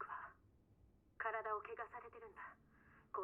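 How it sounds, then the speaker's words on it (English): A telephone rings inside a trailer in the Resident Evil 7 video game, a bright, clear ring starting about a second in and repeating in short bursts until the end. "and then when you try to leave, then the phone goes off."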